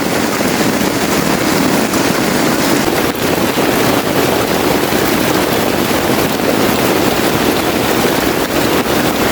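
Heavy rain roars steadily and loudly in a tropical rainforest, a dense unbroken hiss with wind-like buffeting and no voices.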